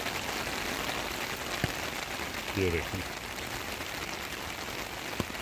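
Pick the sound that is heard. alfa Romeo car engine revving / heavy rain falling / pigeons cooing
heavy rain falling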